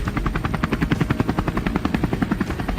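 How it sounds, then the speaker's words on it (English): A helicopter flies low over open plains, its rotor producing a loud, steady rhythmic thudding chop with engine roar underneath, close and continuous throughout. "board the helicopter and touch down on the vast plains below"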